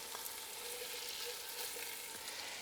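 One diced white onion frying in oil in a pan, a soft, even, continuous sizzle heard close up with no other sounds.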